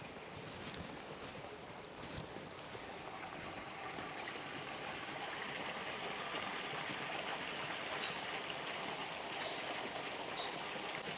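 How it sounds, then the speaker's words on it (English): Water runs and trickles somewhere beneath an old, decaying bridge, a steady broadband wash that continues without a break, with some wind noise buffeting the microphone. "There's some running water going somewhere."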